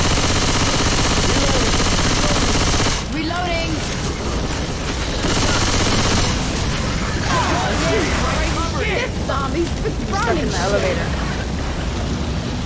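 Sustained automatic gunfire rattles through a Left 4 Dead 2 zombie fight, dense and loud throughout with brief dips, layered with chaotic game effects and occasional shouting voices.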